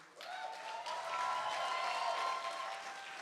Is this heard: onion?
no